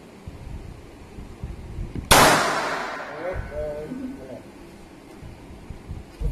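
A handgun fires once at a firing range, a single sharp, loud crack with a short ringing decay, amid quieter background noise and voices talking.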